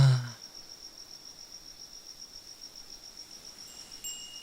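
Looping cricket ambience in Danganronpa: a thin, steady high chirp pulsing rhythmically and faintly throughout, opened by a brief low thump, with a few faint tonal blips near the end.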